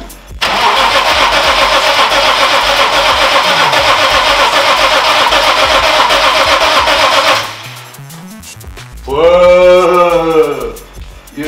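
A BMW E30 car engine, fitted with a new fuel pump, cranks and catches, running with a steady loud rumble for several seconds, then cuts off before a short revving burst near the end.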